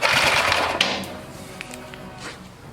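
An old 1959 military engine with a gummed-up carburetor sputters and chatters as it struggles to start, a close, rapid mechanical clatter with a few knocks that fades toward the end.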